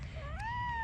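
A kitten outdoors gives a single clear meow that rises in pitch and then holds steady, close and fairly loud with no talking over it.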